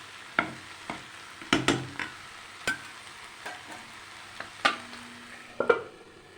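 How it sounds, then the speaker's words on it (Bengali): Leafy greens frying in a pan are turned over and over so they don't stick. Spaced utensil clinks and scrapes fall against a quiet, steady sizzle. No one speaks. "যেন নিচে না লেগে যেতে পারে, তলায় লেগে গেলে না খেতে ভালো লাগবে না, এই জন্য বারবার একটু নাড়াচাড়া করে নিতে হচ্ছে"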